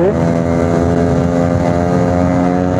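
A 1987 Yamaha RX100 motorcycle with a restored two-stroke engine runs steadily up close, its loud, even drone holding an unbroken tone throughout with no voices over it.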